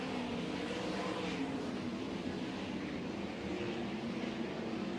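Race cars run laps in a ten-lap heat race, a steady, distant engine drone that holds at an even level with no break.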